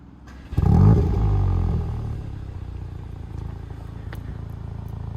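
A Volkswagen Golf GTI Clubsport engine cranks and catches in sport mode with a loud burst, then settles into a steady rumbling idle, close by.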